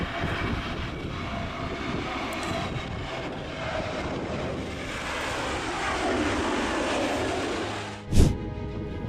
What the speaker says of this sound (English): An Airbus A321neo landed in crosswind.